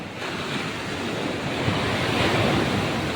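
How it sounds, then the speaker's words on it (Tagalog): Powerful ocean surf roars steadily, a dense wash of crashing waves with some wind buffeting the microphone, building slightly louder toward the end. "Lakas ng alon."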